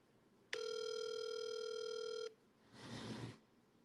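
Phone ringing with a single bright electronic tone that holds steady for nearly two seconds and then cuts off, followed by a short burst of rustling noise, all fairly quiet.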